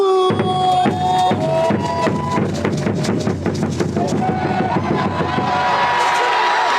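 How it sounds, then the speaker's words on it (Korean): Crowd at a KT Wiz baseball game cheering and clapping in rhythm, with amplified voices and stadium music over dense sustained applause, loud and close throughout. "응원의 박수!"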